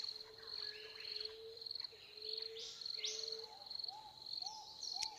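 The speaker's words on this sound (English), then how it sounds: "this final track of birdsong brings us to the end of our breath" A recorded birdsong track plays quietly at the close of an evening breathwork session, with repeated chirping calls and a steady insect trill over a hushed background.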